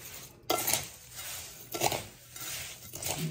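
Pon, perlite and bark mix are stirred together in a container, giving soft gritty scraping and rustling in several slow strokes, quiet and close with no one talking.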